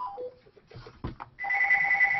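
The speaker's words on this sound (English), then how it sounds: "someone's phone is ringing." A phone ringtone chimes steadily with a bright, continuous tone, entering after a few soft clicks and bumps and holding loud and close until the end.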